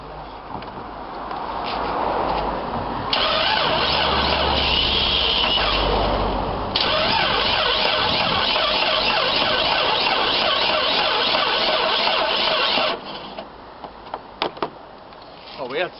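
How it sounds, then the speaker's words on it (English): A Jeep Cherokee XJ Mk1 engine fires up after cranking, runs roughly for several seconds, then cuts out and falls quiet, loud and close with no talking over it. "it did burst into life but then it stopped"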